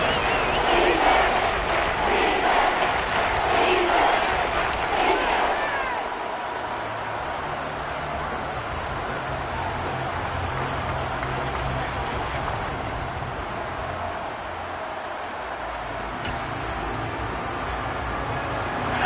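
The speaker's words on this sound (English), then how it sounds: "The crowd here in the Dome making things difficult." A stadium crowd roars at an American football game played indoors in a dome, loud at first with sharp whistles and shouts, then settling into a sustained, reverberant rumble of cheering.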